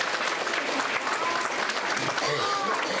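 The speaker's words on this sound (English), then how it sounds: "If y'all give them a round of applause for the association." Audience applause at a Down Syndrome Association gala, a steady, dense round of clapping that fills the hall throughout, with some voices mixed in under it.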